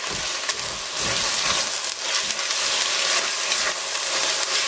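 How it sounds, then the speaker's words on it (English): Sofrito and chicken for a Cuban chicken fricassee sizzle steadily in a hot pan inside an RV travel trailer, with a dense, continuous frying hiss and occasional scraping stir noises close by. "I'm gonna give it a stir."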